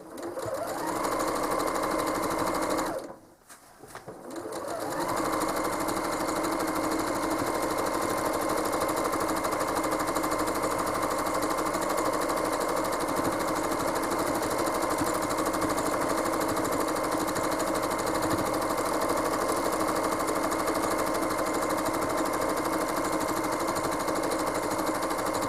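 A home sewing machine quilts a throw quilt with a steady, continuous motor whir and needle chatter. It pauses briefly near the start, then runs again without a break, with no talking.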